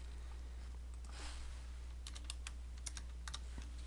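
Someone types on a computer keyboard, a quiet run of quick, irregular key clicks in short bursts over a low, steady hum.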